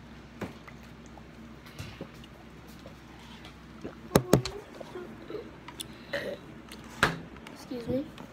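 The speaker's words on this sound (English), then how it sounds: "She burped." Several burps scattered through a noisy room, some sharp and loud, with voices and movement in the background.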